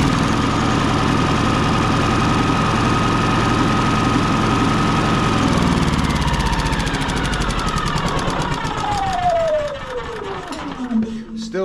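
A Yamaha EF4500iSE generator runs rough with a loud, uneven knocking drone, then its pitch sweeps down as it winds toward a stop near the end.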